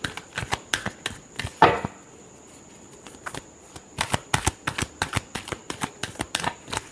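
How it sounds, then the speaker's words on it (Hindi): Tarot cards being shuffled by hand close up, heard as quick bursts of crisp riffling and flicking, separated by short quiet pauses, with no talk. "Last shuffle."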